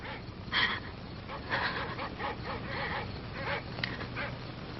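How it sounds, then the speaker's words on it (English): Dogs barking and whimpering at night in a dark rural setting, faint and distant-sounding yips and whines repeating irregularly under a steady low background hum. "Those dreadful dogs. They sound so terribly ominous."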